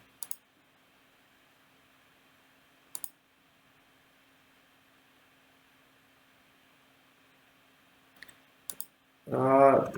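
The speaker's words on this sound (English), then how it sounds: "Let me click on this view source." Sharp, isolated computer mouse clicks sound while a browser web page is operated, coming in small single and paired taps spread across quiet stretches, with a brief louder burst of noise at the very end.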